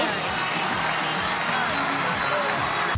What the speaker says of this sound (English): the cheer track that they've played over this whole thing